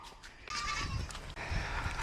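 Goats bleat nearby on a farm in two loud, wavering calls, one after another, over a quiet rustling background.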